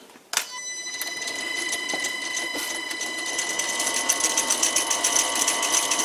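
A wood lathe spins an oak blank on a homemade screw chuck at about 400 RPM, giving a steady, close motor whine with a high ringing hum that starts abruptly and holds, with faint rattles and ticks along the way.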